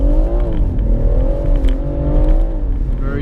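A stock BMW M140i drives on a wet, greasy road, its engine a steady, loud, close drone with shifting harmonics and faint crackles throughout, and no voices.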